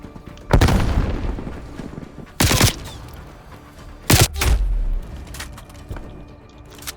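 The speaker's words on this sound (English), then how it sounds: "Throwing frag." Heavy blasts from a first-person shooter battle with a thrown frag grenade: a sharp booming burst, a second loud crack a couple of seconds later, then another explosive hit with a rumbling tail, each standing out over steady background noise.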